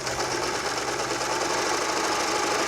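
A Baby Lock sewing machine runs steadily, stitching a sample with lofty decorative thread; a close, continuous mechanical whir and rapid needle chatter hold level for the whole span with no talk.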